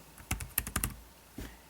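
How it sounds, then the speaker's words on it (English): Keys tapped on an Asus Transformer Pad Infinity mobile dock keyboard, a quick close run of about five crisp clicks followed by one more after a short pause, with no talk. "So you can see I was typing Android, typed it into the search box"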